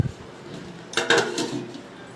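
A plate set down as a lid over a chicken biryani pot, giving a brief metallic clink and clatter near the middle, close by, with no voices.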